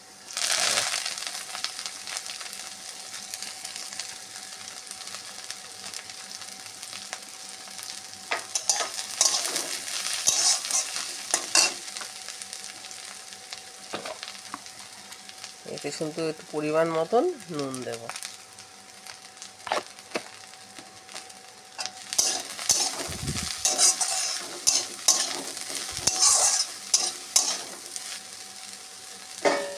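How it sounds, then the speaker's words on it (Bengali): Data shak stem greens frying in a pan with garlic and green chilli, a continuous close sizzle broken by repeated scraping and stirring strokes of a spatula, with a brief spoken remark partway through. "ডাটা শাক ভাজা হয়ে গেছে"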